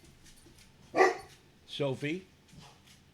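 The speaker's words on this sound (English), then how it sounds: "My dog has been activated." A dog barks at the ringing doorbell in a couple of short, fairly loud bursts, while a person speaks briefly nearby.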